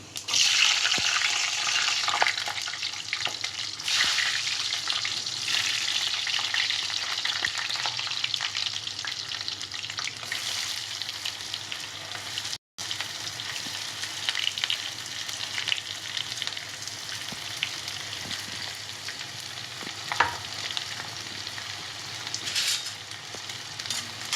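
Garlic sizzles and crackles steadily in hot oil, close up, with occasional stirring scrapes under the continuous frying hiss.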